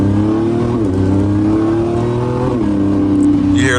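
A Lamborghini engine roars loud and close as its exhaust valves open around 4,000 RPM, giving a sustained, throaty drone whose pitch dips and climbs again with the revs.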